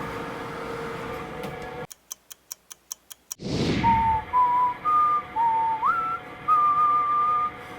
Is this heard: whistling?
yes